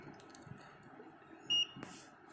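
A multimeter on continuity mode gives a single short, clear electronic beep against a quiet background, with faint handling clicks around it.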